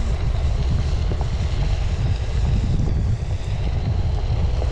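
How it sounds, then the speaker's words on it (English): Strong wind buffets the microphone with a constant low rumble and roar, no voices heard. "It seems super windy."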